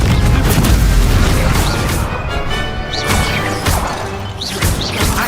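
Loud spell blast from the Confringo fire spell in the video game Hogwarts Legacy, a dense crashing burst amid continuous battle noise, with repeated smashing impacts and whooshing effects throughout.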